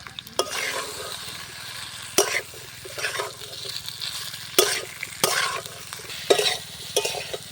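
A spatula stirs poppy seed and black mustard paste into vegetables frying in a pan for Bengali shukto. Sharp scraping strokes come at irregular intervals over a soft, steady sizzle, close up.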